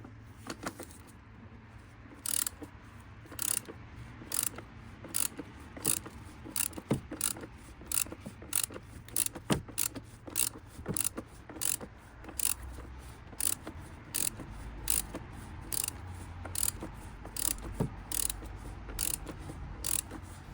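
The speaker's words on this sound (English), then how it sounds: "When you can no longer turn it by hand, use a ratchet for more leverage" Ratchet tightening the oil filter cap on a BMW X5 G05 30d diesel engine during an oil change, a steady run of sharp, close clicks in short repeated bursts across the whole stretch with no voices.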